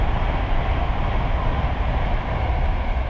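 A train rumbles past near a canal in Milton Keynes, a steady, loud, broadband roar that holds evenly without letting up for a few seconds, with no voices.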